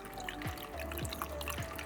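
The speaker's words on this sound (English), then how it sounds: "Hope you guys could hear the water flowing sound, the trickles." A small indoor live fountain on a home office desk trickles and gurgles softly and continuously, with faint repeated drips sounding close and quiet.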